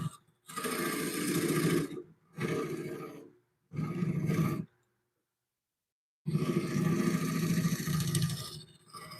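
A skew chisel cuts a wooden bowl spinning on a woodturning lathe. Four bursts of rough, buzzing scraping come close and loud, separated by short pauses and one longer gap.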